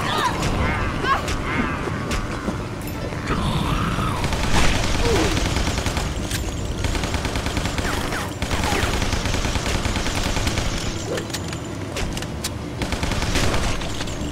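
Video-game gunfire as a player shoots at zombies: repeated bursts of shots mixed with game effects and clatter, fairly loud throughout, with a voice talking over parts of it.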